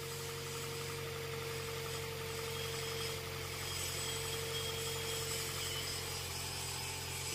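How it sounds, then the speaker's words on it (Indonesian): A Toyota Innova engine idles steadily and alone, a close, loud, even hum with a faint rough vibration, its speed hovering a little high instead of settling. "Mesin jika tidak normal itu akan gedek. Oke, RPM sudah mulai turun."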